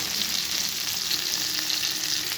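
Fish coated in masala fries in a pan with a dense, continuous hiss and sizzle, steady and close, with no voices.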